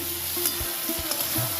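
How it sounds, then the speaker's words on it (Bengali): Vegetables sizzling steadily in a pan while being stirred for a Bengali pui shak and fish-head recipe, with several soft scraping knocks of the spoon over the hiss. "সবজিগুলো ভাজা ভাজা হয়ে এসছে"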